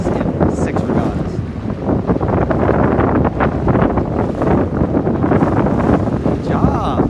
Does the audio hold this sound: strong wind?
yes